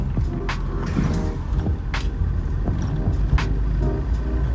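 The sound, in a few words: Opel Kadett E 1986 car driving at about 50 km/h in third gear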